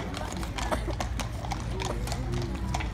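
Steady hoof clip-clop of a police training horse on a hard surface in France, continuous and fairly close, with a brief whinny-like tone partway through.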